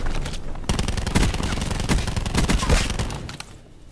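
Dense automatic gunfire in the Black Ops 4 video game, rapid bursts of shots overlapping continuously for several seconds, loud and close before tapering off at the end.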